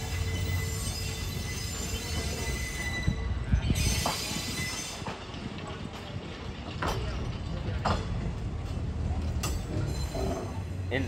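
A train pulls forward off one track to switch to another, rumbling with loud, sustained metallic wheel squeals, intermittent clanks and rattles, continuous and close throughout.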